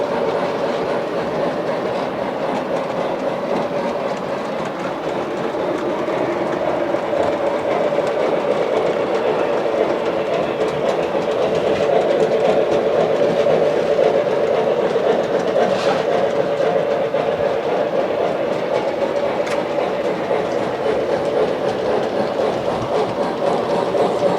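Remote-controlled model train engines run on looped track, making a steady, loud, continuous rumble and rattle with a faint clickety-clack that holds throughout.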